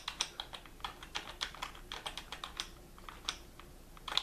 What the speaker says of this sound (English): These are just with some keystrokes.